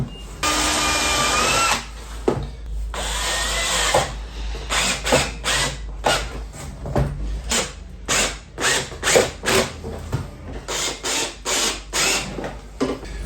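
A power drill whirs in a long burst through a Land Rover Defender door, then fires in a rapid series of short bursts with pauses between them, close and loud.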